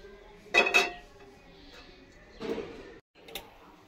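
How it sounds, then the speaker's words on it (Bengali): A metal pan is set down in an outdoor village kitchen, giving two quick clanks followed by a softer clink a couple of seconds later, close and fairly quiet. "একটা প্যান দিয়ে দিলাম"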